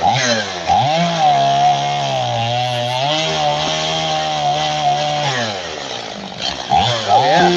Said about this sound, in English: This is speed sawing at its finest.